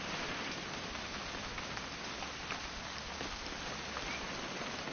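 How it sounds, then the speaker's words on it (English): Steady rain in What Remains of Edith Finch, a soft continuous hiss of drops pattering on surfaces, fairly faint and even, with no voices. "It's gonna rain the whole weekend, isn't it?"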